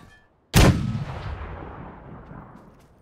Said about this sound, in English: Someone's mortaring.